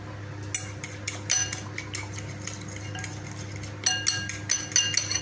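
Ribs with white pepper and parsley are stirred in a pan: a spoon scrapes and clinks against the metal in irregular strokes over a low, steady sizzle, close and clear.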